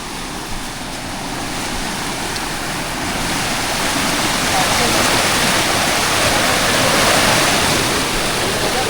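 Loud, steady floodwater rushing along a road and into an eggplant field roars continuously, growing slightly stronger, with no talking over it.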